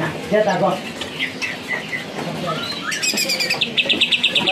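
A black-billed green leafbird sings in a bird market kiosk in Medan, bright chirps and warbled phrases repeating through the clip while someone talks nearby.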